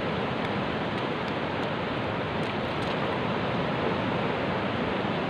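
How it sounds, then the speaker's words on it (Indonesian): Ocean surf washes onto a long beach in the morning, a broad, continuous roar of breaking waves, loud and steady with no one speaking. "Awas ombak."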